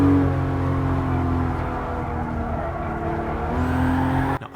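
A synthesized Toyota Supra inline-six from Gran Turismo hums at steady revs with a droning engine tone, then briefly cuts off at the end.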